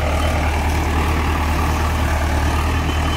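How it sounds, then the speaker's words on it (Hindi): Mahindra 585 DI tractor pulling a reversible plough through a sugarcane field, its diesel engine droning in a steady low, unbroken hum, close and constant, with no voices. "इसी एक पलटा हल से मिट्टी चढ़ाई जाएगी छोटे ट्रैक्टर से"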